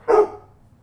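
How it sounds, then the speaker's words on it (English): A dog gives one short, muffled bark in the background, a single brief yap that fades quickly into quiet. "As you can hear the dog in the background."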